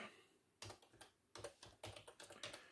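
A Google search is typed on a computer keyboard: faint, close key clicks in quick irregular clusters, a dozen or so taps with short pauses between bursts.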